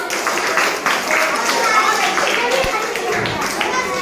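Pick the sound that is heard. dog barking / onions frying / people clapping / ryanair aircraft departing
people clapping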